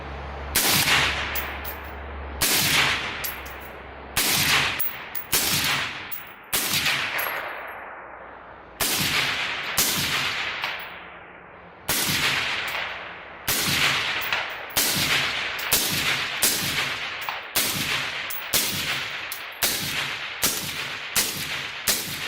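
Suppressed gunshots from regular .223/5.56 ammunition fired through a 5.56 suppressor: around twenty sharp, loud reports, some well spaced and others in quicker strings, each with a short ringing decay and a metallic clang.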